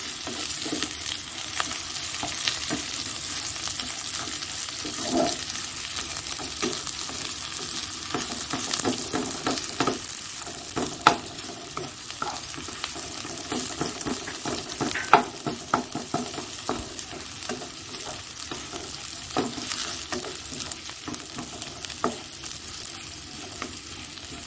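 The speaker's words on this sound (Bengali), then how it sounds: "এখানে কালো জিরে দিয়ে দিয়েছি আর পেঁয়াজটা দিয়ে দিলাম। পেঁয়াজটা বেশি করে ভাজবো না," Onions frying in oil with black cumin seeds, a steady broadband sizzle with frequent scraping stirs and clinks of a spatula against the pan, close and continuous throughout.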